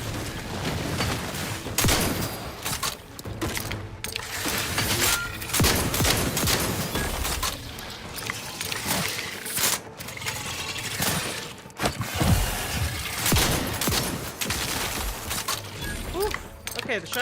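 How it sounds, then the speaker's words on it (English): Shotgun blasts and chaotic combat noise in the video game The Outer Worlds 2, dense bursts of loud booms and clattering impacts over seventeen seconds, with a player speaking throughout. "the shotgun's pretty good against these guys"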